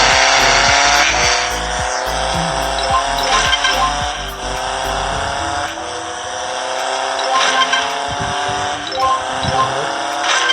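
Motorbike riding in a mobile video game: a loud continuous synthetic engine drone with rising and falling revs and occasional tire-skid effects, while someone talks over it.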